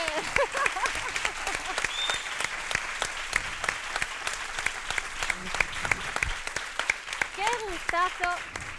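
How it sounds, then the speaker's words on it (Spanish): Loud audience applause at the opening of a feminist gathering, dense clapping with sharp individual claps standing out and a voice speaking over it near the end. "necesito un fuerte aplauso para este encuentro feminista"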